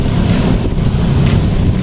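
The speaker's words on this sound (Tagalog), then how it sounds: "Sobra ang lakas ng hangin." Strong wind roars steadily across the microphone while cycling near kilometer 90 on a hilly road loop, a loud, constant low buffeting with no speech.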